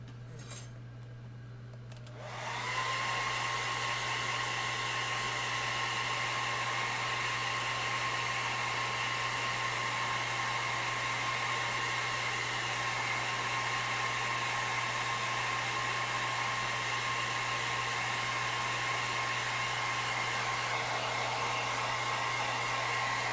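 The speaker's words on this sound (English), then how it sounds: "Get a hair dryer on this guy real quick." A hair dryer blows hot air onto a foam face hugger prop, starting with a click and a brief rumble before settling into a loud, steady whine with a high tonal hum that holds for about twenty seconds.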